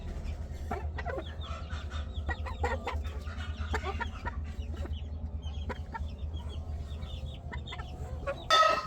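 Chickens cluck continuously in a poultry yard where hens sit on eggs, with dense overlapping calls near and far and a brief louder burst at the very end.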